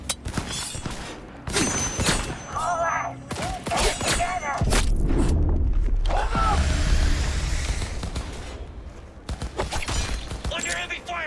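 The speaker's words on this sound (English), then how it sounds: "Under heavy fire!" Gunfire in the video game Cyberpunk 2077 comes as bursts of loud shots and heavy thuds, with a sustained rumbling barrage midway, mixed with shouted voices and game effects.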